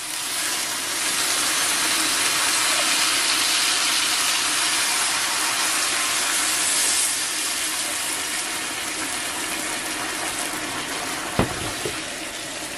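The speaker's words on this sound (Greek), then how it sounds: "Εγώ έχω βάλει καυτό νερό." Hot water pours steadily into a pot of sautéed ingredients on the stove, a continuous loud hissing sizzle and bubbling that holds for about ten seconds before easing, with a short knock near the end.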